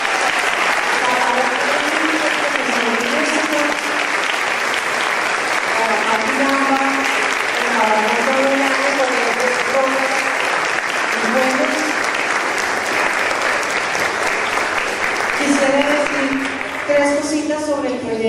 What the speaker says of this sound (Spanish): quisiera un aplauso gigantesco para Claudia